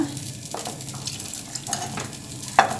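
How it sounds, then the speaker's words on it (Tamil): Akkaravadisal, a Srirangam-style sweet, being stirred with milk and dissolved jaggery in a pot, giving a steady soft scraping and bubbling with a few sharper clinks of the ladle against the pot, with no talk. "ஊற்றி கொஞ்சம் கொஞ்சமாக கிண்டுங்க"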